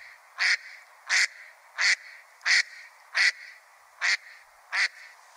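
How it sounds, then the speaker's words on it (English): Hen mallard duck quacking seven times in an even, steady rhythm, each quack loud and clear against a quiet background. "The basic quack of the hen mallard."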